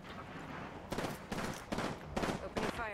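Rapid bursts of automatic gunfire in the shooter game Apex Legends, five short volleys in quick succession over a constant background of game ambience, fairly faint overall.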